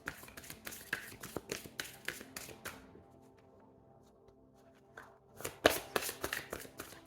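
Mayan oracle cards shuffled by hand in a quiet room, a run of crisp riffling flicks, a short pause with faint rustle, then another brisk burst of close card shuffling.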